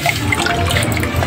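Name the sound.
water being poured into a bottle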